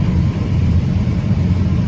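Combine harvester engine running at revs during a bean harvest, a loud, steady, low diesel drone heard close from the cab for a couple of seconds with no talking.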